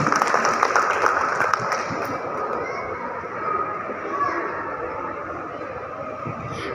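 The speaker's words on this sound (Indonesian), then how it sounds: "Kita beri tepuk tangan." Audience applause at a Papua Barat ecotourism event in Manokwari, sustained dense clapping over a murmuring crowd, steady throughout with some chatter mixed in.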